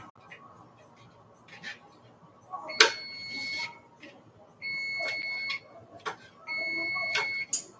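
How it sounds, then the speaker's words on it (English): A kitchen timer beeps in sustained tones, one long beep after another, with short pauses between them, alongside faint clattering and background noise. "I hear the beep for the peppers"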